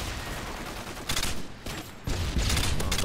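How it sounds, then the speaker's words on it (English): A mounted gun in Modern Warfare 2 fires three-round bursts, dense rapid gunfire crackling continuously through the game mix with repeated louder bursts. "the good thing about this one is it shoots 3 bullets at a time"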